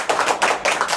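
A church congregation claps together in a service, sharp hand claps bunched in quick rhythmic bursts that repeat several times in a row, close and lively.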